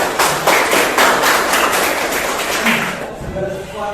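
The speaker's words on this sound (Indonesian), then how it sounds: "tepuk tangan untuk Bapak" Classroom audience clapping for a teacher, a dense burst of many hands that carries steadily for about three seconds before tapering off, with faint voices mixed in near the end.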